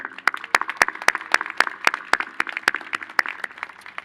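Sparse, distinct hand claps ring out from a convocation audience cheering the platform party, irregular and moderately close, with a thin crowd murmur underneath.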